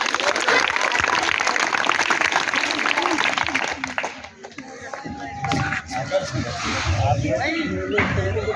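Students clap for a quiz team at a school quiz, a loud, dense burst of many hands for the first half that then thins out into scattered noise and voices.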